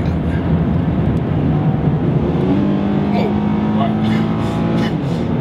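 A 2015 Ford Mustang muscle car accelerates hard, its engine note rising steadily in pitch as it revs, heard from inside the cabin with steady road and wind noise beneath and people talking over it.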